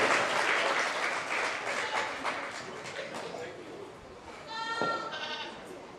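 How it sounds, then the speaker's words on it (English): Audience applause for exhibitors at a 4-H county fair goat show, steady clapping through most of the stretch with goats bleating loudly near the end. "let's give all these exhibitors a big round of applause"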